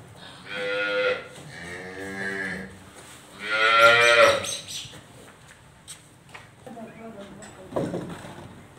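Cattle low in long, loud moos at a farm in Punjab, Pakistan, with two drawn-out calls followed by shorter, fainter sounds amid nearby talking.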